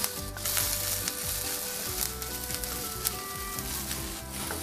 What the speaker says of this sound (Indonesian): panaskan sedikit minyak, tumis bawang putih dan jahe